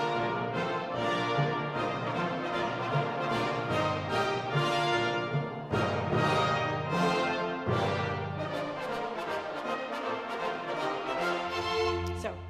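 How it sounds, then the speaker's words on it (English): A lively march for wind and brass ensemble, with bouncy dotted rhythms and offbeat accents, playing steadily and fairly loud with no voices. "It's full of syncopation, dotted rhythms, and it's played on the wind and brass."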